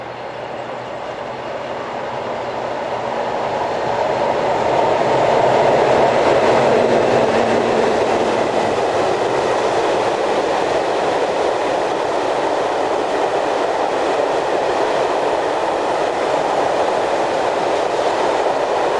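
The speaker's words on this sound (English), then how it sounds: "140506 heads this southbound loaded coal train." A class 140 electric locomotive, number 140506, hauling a loaded southbound coal freight train toward the steelworks around Saarbrücken. It approaches and grows to a loud, steady rolling roar with wagon rumble and faint clickety-clack, and it stays alone for the whole stretch.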